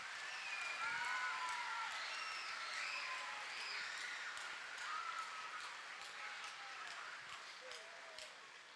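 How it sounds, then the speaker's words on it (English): A school audience at a homecoming skit night claps for a group of kids, giving a sustained, fairly distant wash of applause with indistinct crowd voices and a few whistles. "Let's give all of these kids a round of applause"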